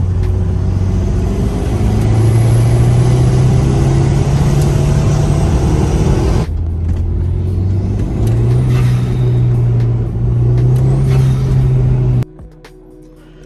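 An Audi TT with its N249 sensor deleted pulls hard in fourth gear, recorded up close. A loud engine drone climbs in pitch, breaks off briefly at a shift, then climbs again before cutting off near the end.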